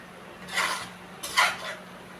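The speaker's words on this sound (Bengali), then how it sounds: "খুন্তি দিয়ে নেড়ে আর ঢাকা দিয়ে রাখবো।" A spatula scrapes twice through banana flower and prawn curry in a pot before the lid goes on, two close, brief metallic scraping strokes with a quiet hum between.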